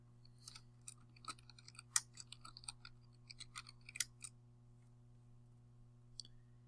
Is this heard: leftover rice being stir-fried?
no